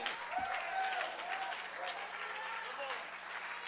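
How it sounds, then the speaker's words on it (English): A church congregation claps during a sermon, the clapping soft and continuous, with murmuring voices and a low hum underneath. "Oh, clap your hands."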